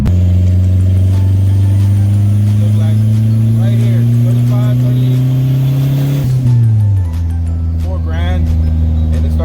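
Turbocharged LS-swapped car engine slow to build boost, droning loudly and climbing steadily in pitch for several seconds before dropping off sharply, with someone talking over it.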